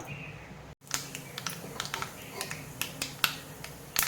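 Mustard seeds pop and crackle in hot oil, sharp irregular snaps scattered over a low sizzle, close and fairly loud, no talking.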